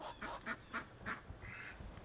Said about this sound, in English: The ducks are pretty talkative this morning.